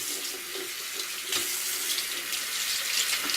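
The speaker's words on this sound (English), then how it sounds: "Rinse it off, another layer." A soapy paintbrush is rinsed under a running tap, giving a steady, close splash of flowing water with no voices.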